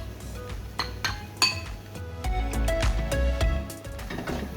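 A spoon folds mushrooms through mayonnaise in a bowl, giving close, irregular clinks and scrapes against the bowl with soft wet stirring between them.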